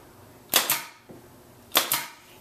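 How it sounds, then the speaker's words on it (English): A pin nailer fires pins into wood for a built-in cabinet, giving two pairs of sharp, close pneumatic snaps about a second apart, with a faint click between them. "I take my pinner gun, and I just shoot a couple of pins"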